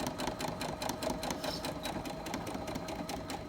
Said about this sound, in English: Then sew off the line.